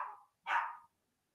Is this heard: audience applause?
no